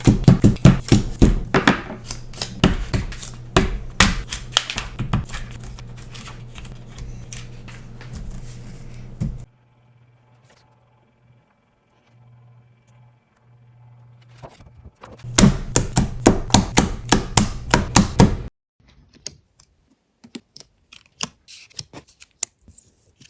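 Rapid crisp snipping bursts of small scissors slicing through stiff laminated sheets, two long runs separated by a quiet stretch, then a few scattered cuts.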